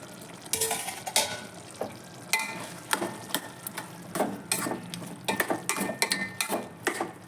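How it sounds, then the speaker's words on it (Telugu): Tomatoes cook in a pan on high flame, with a quiet sizzle under repeated scraping and stirring clatter from a utensil against the pan in uneven bursts. "ఈ విధంగా ఐదు నిమిషాలు హై ఫ్లేమ్ పైన టమాటాలను ఉడికించుకొని"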